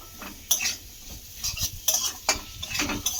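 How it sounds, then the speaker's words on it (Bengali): Raw potatoes being stirred with spice masala in a pan for an egg curry, with rhythmic spatula scrapes and clinks over a light sizzle, close and fairly loud. "এবারে আলুর সঙ্গে মশলাটার সঙ্গে ভালো করে একটু কষিয়ে নেব"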